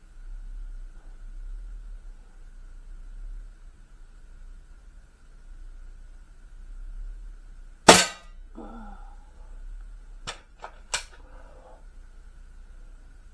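An airsoft mini-Uzi replica fires a single sharp crack, then two short snaps a few seconds apart, against a quiet background hum.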